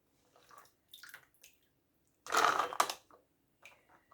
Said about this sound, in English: I'm using a slotted spoon so that I'm not going to get any of this water in there.